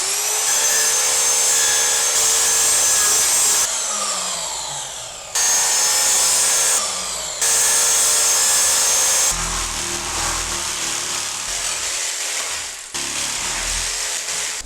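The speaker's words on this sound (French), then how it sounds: "on va découper ça à la scie sauteuse" A jigsaw cuts through laminate flooring planks in loud sawing bursts that start and stop several times, with a harsh buzzing rasp and short pauses between cuts and no talking.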